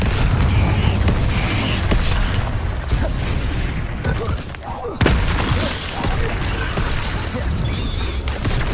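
Confringo fire spell bursting in Hogwarts Legacy, a loud, dense fiery blast with rumbling low end that carries through the whole stretch, dipping briefly before a second sharp burst near the middle.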